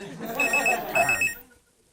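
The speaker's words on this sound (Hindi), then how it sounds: "फिर वापस फोन आया।" A telephone rings in a comedy show scene, a bright electronic bell repeating in quick bursts for over a second before cutting off into quiet.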